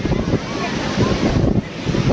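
Sea waves wash onto Nagaon beach in broad rolling surges under heavy wind buffeting on the microphone, a close, continuous rush that swells roughly every second.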